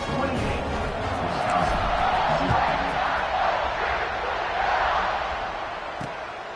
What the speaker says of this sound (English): it just feels like they're really feeding off of this home crowd and their energy